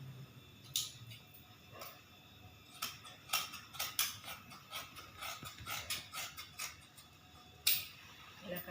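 Scissors cut through cloth from old pants to shape bag pockets, giving a string of quiet, irregular snips and ticks that cluster around the middle, with one sharper click near the end.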